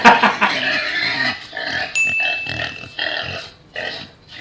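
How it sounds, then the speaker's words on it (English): Pig grunting in a series of close, loud, rough snorts and grunts that come in short bursts with brief gaps, standing alone without talk. "It's Peppa Pig"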